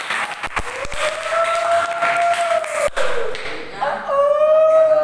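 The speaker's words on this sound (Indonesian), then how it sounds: "berikan tepuk tangan yang meriah." Audience members at a pro-versus-contra debate break into clapping, with sharp scattered claps mixed with a tonal whistle-like sound and background voices.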